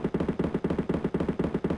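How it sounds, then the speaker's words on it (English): A rapid, rhythmic burst of machine-gun fire plays in a 1990s Carmen Sandiego video game cutscene, sounding as loud repeated bursts of closely spaced shots with brief gaps between them. "Lots of gunfire."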